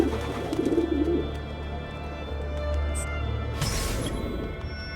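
Carrier pigeons coo in Assassin's Creed 2, a low throaty cooing from birds nearby over a steady ambient game hum, with a brief rushing burst near the end.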